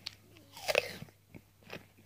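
A sharp crunchy bite into a crisp Red Falstaff apple, followed by a few quieter wet chewing crunches, close to the mic.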